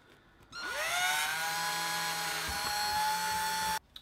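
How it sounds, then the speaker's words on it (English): A power drill spins up sharply and runs at a steady high whine for about three seconds before cutting off abruptly, drilling a small pilot hole. "all I'm going to do is drill a little pilot hole"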